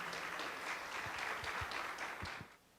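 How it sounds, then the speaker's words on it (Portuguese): Church congregation clapping to welcome the evening's preacher at a Protestant Reformation celebration, a fairly faint, brief round of applause with some distinct individual claps, fading out near the end. "eu vou pedir que a igreja fique de pé e receba com a salva de palmas o pregador da noite"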